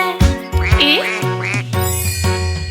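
A mother duck's quacks in a Haryanvi children's song, sung rather than real: a voice imitates the duck with four quick bright quacks over a simple musical backing with a tinkling accompaniment.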